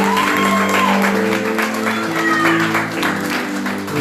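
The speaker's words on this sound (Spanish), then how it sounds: "Denle ese aplauso al Señor." A church congregation applauds and cheers in a Spanish-language worship service, with steady dense clapping, scattered shouts and a sung or sustained voice carrying over the crowd throughout.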